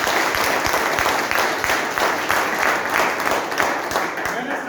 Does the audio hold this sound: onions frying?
no